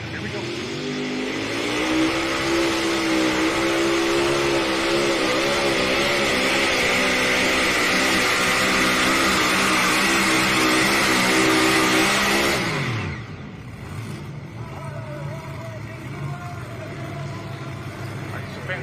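Loud International pulling tractor named Salvation roaring at full throttle at a tractor pull, engine climbing steadily in pitch for about twelve seconds before abruptly cutting off, leaving a distant crowd and announcer murmuring behind.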